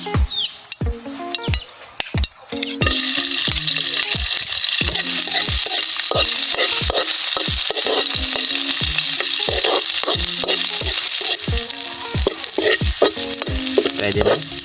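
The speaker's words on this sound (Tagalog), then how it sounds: "Igisa muna tayo ng bawang." Garlic hits hot oil for ginataang sihi: after a few quiet taps, a loud, close, steady sizzle bursts in and continues, punctuated by regular stirring scrapes and clacks.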